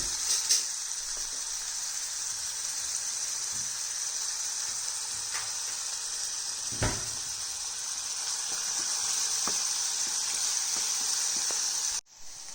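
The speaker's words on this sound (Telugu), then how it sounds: "అవి కొంచెం వేగనండి" Cinnamon sticks and cloves frying in hot oil in a pan for a tomato curry, a steady, bright sizzle with occasional pops and stirring taps, close and continuous.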